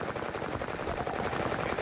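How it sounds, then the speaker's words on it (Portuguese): Rapid, continuous gunfire crackles in a dense burst of automatic shots in Call of Duty: Modern Warfare, loud and unbroken throughout. "Um tiro da frente. Um tiro, o outro."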